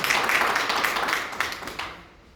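Audience applause at a political speech, a close, fairly faint patter of clapping hands that fades out toward the end.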